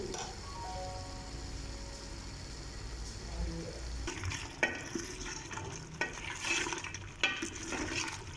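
Chicken and spices fry in ghee in a karahi for desi chicken karahi, a soft sizzle at first, then louder scraping and clattering of stirring with bursts of frying toward the end.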